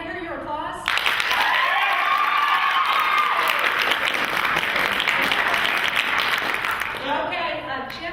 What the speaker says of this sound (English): Can I hear your applause?